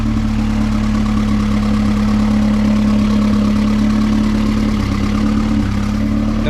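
Steady, close idle of a Honda EF sedan's built B20VTEC engine, a continuous low hum with a slight dip near the end, no voices.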